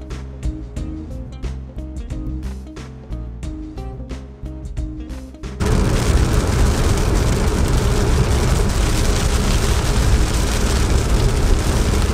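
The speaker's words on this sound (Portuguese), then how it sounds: "Chovendo aqui forte." Heavy rain in Florida during hurricane season, a dense loud continuous wash of rainfall that takes over after a stretch of music with rhythmic beats ends abruptly.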